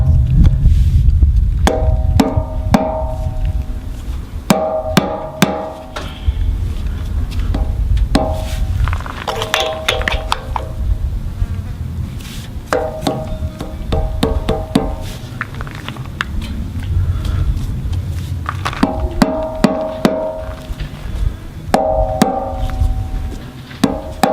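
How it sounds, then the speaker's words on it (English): Repeated dull knocks of a soft mallet pounding a pin into a log splitter, in irregular bursts over low background rumble, close by and fairly loud. "A nice soft hammer, a wooden mallet, rubber mallet works great. I'm just going to pound this in nicely"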